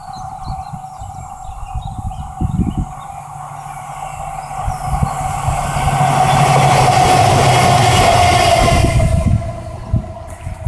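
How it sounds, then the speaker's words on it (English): A freight train hauled by two Class 70 diesel locomotives in double-header formation approaches and passes, a swelling rumble and steady roar building to a loud sustained pass before fading, with birds chirping faintly early on. "Two Class 70s. What you call a double header."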